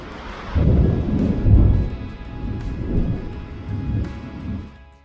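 A summer thunderstorm with rain: deep thunder rumbles and rolls in several swells over a steady wash of falling rain, with no voices.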